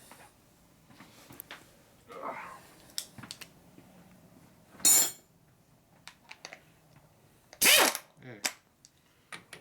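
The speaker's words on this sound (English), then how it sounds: "So you have to take this nut off to get the rocker off." Wrench taking a nut off the rocker of a 1942 Harley WLC/WLA 45ci springer front fork, scattered ratcheting clicks and metallic clanks with a couple of sharp louder bursts, brief talk in between.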